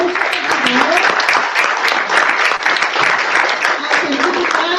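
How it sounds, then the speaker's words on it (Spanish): Audience applause at a legislative dialogue with civil society, a loud, dense and steady clapping from a full room that carries unbroken for about five seconds. "Vamos a brindar un fuerte, pero fuerte aplauso, por favor"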